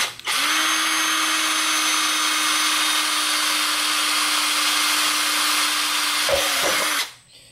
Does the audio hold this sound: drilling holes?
yes